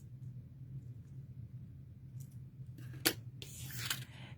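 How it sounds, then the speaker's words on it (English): Scissors snip through a piece of ribbon for a Christmas-present style card, giving a couple of brief, crisp cuts near the end over a faint, low room hum. "I'm going to cut a piece of ribbon"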